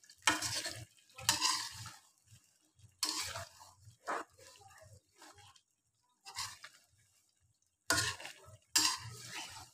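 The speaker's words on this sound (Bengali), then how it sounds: "ঢাকনাটা খুলে একটু নেড়ে ঢেকে নিচ্ছি" Mustard and peanut paste drumstick curry is stirred in a pan in several short bursts of scraping and clatter, with soft sizzling between them and no talk.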